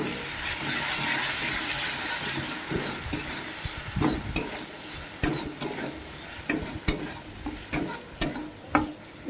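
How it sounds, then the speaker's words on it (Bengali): A spatula stirs fried capsicum, onion and chopped garlic with three sauces in a pan for chilli chicken. Soft sizzling gives way to a run of sharp, regular scraping strokes against the pan, alone without talk. "আমি এবার এই 3 রকমের সসটা দিয়ে ভালো করে নেড়ে নেব"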